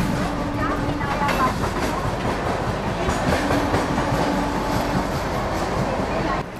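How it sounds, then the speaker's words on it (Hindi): A long-distance express train runs through Kasara railway station at the foot of a ghat section, with a continuous rumbling roar of wheels and carriages, rhythmic clatter and faint squeals, heard close from on board. "तो चलिए कसारा रेलवे स्टेशन क्रॉस कर रहे हैं और यहाँ से घाट सेक्शन खत्म होता है।"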